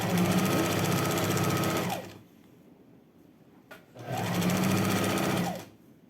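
A sewing machine stitches elastic onto fabric shorts in two loud, close bursts of rapid, even needle clatter, with a brief quiet pause between them.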